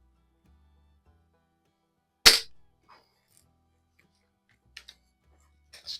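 A single sharp crack from a Crosman .177 pump air rifle shot, close and loud with a short decay, followed by a few faint clicks and small handling noises in otherwise quiet surroundings.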